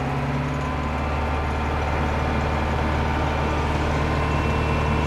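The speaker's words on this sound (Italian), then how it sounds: "pian pianino si avvia il trinciastocchi mollando lentamente la frizione e poi il trattore" A tractor drives a Taarup flail mower at full power, a loud, steady low-pitched engine roar blended with the continuous whirring drone of the spinning flails, close and unbroken.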